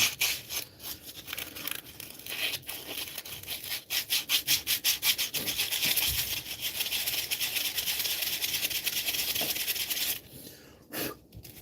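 A gouge cuts wood on a spinning lathe, first in rapid rhythmic scraping pulses, then in a steady hissing, rasping cut that stops abruptly near the end.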